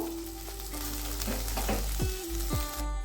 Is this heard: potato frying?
yes